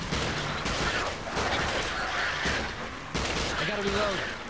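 Gunfire in a Peter Jackson's King Kong video game battle, a dense continuous wash of shots and booms mixed with shouting voices and game noise throughout.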